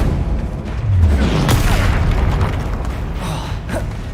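Spell explosions from Confringo and Bombarda in the Hogwarts Legacy video game, a steady run of booming blasts and bursts over a dense, continuous game soundtrack with no pauses.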